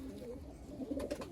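A male Malwai pigeon coos in soft, repeated low notes, faint and close, with a few louder pulses near the end.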